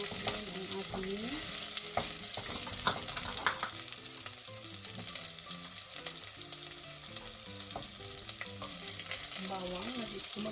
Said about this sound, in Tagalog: gagamitin ko siya sa paggisa. So, una ay ang ating sibuyas.